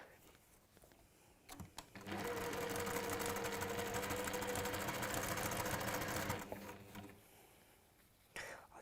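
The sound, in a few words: sewing machine stitching fabric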